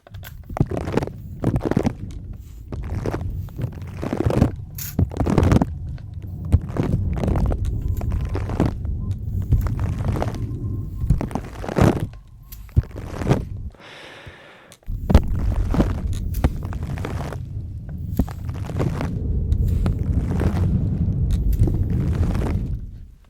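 Close-up tapping and pattering imitate rain and a thunderstorm, with dense bursts of low rumbling and rustling that swell and fade, pausing briefly midway before resuming.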